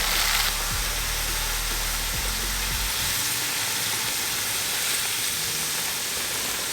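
Beer poured into a hot pan with crushed garlic and tomato paste for a beef and ale stew, producing a loud, continuous hiss and sizzle of steam with low pouring bubbles at first.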